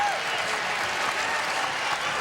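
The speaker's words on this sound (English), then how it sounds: "And John applauding over there." Steady applause from a basketball arena crowd at an NCAA tournament game between Memphis and Ohio State, a continuous mid-level wash of clapping with no clear voices.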